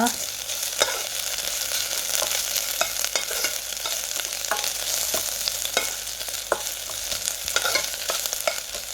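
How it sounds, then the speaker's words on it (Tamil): Garlic and ginger paste sautés in a pan for a sardine fish curry, giving a steady close sizzle with repeated sharp scrapes of a stirring spoon and no voices. "இதுக்குள்ளே வந்து உள்ளி இஞ்சி அடித்ததை போடுவேன்"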